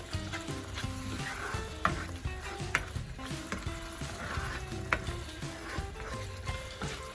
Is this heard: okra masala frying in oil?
yes